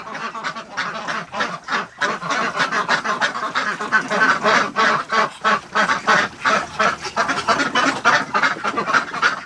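Muscovy ducks kept indoors for frostbite treatment make rapid, breathy hissing and soft chattering calls in quick overlapping bursts, close and fairly loud throughout.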